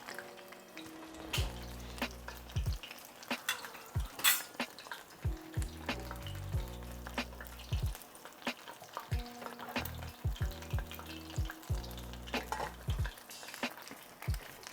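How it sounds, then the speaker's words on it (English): Belizean conch fritters sizzle in a shallow pan of oil, a continuous frying hiss broken by repeated clinks and scrapes of utensils against the pan and dishes, close up and with no talking. "So it comes to like a half of the fritter, so it fries it perfect."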